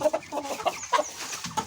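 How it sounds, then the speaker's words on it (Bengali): Chickens on a rooftop cluck in short, quick bursts nearby, several calls overlapping in a busy flurry. "ছাদে আমি মুরগি পালি"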